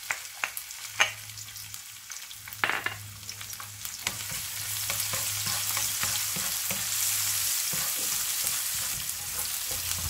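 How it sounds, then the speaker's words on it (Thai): Chili and garlic sizzle and hiss in hot oil in a wok as they are stir-fried for Thai pad kaphrao, a steady crackling fry with occasional scrapes of a spatula, close and continuous. "ใส่น้ำมันลงไปนะคะตามด้วยพริกกระเทียมนะคะผัดให้หอม"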